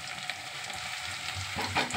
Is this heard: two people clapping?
no